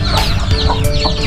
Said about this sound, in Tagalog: Ito po yung mga bantam chicken nila.